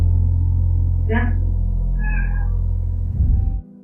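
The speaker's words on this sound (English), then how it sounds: "Even the cat seems alarmed, jumping off the bed and dashing out the door" A cat meows twice indoors, two short clear calls over a loud steady low hum, followed by a brief thump near the end.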